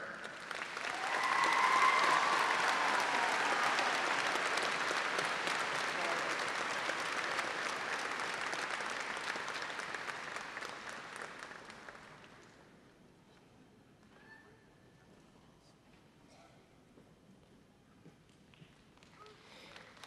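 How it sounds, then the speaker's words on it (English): A high school graduation audience applauds the students in a loud, dense wave of clapping that swells early, holds for about ten seconds, then fades out to a quiet hall with scattered small sounds. "Please join me in applauding these students' hard work."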